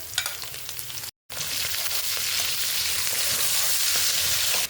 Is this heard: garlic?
yes